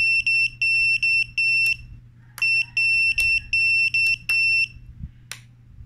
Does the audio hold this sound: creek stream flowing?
no